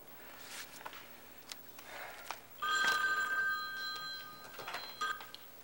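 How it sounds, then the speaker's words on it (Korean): A telephone rings in an office in a 1979 Korean TV crime drama, with one bright ring midway, moderately loud over quiet room tone and faint shuffling movement. "전화 받으세요"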